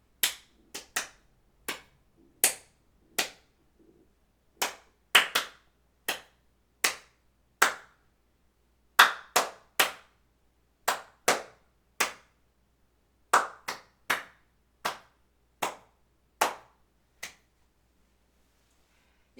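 A single pair of hands claps out the rhythm of the Star Spangled Banner: sharp, dry, close claps in a paced melodic pattern with brief pauses between phrases, alone in a quiet room.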